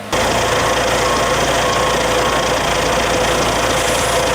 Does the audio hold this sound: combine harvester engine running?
yes